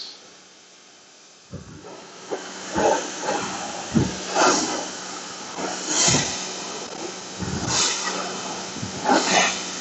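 A SunJoe SPX-4004 pressure washer sprays on its high setting, a steady hiss broken by bursts of water spattering against a surface, close by.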